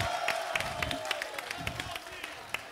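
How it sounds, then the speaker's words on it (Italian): A festival crowd claps and cheers in a brisk burst of applause, with scattered loud claps over a low murmur and a voice talking through it. "Un applauso a Rosario!"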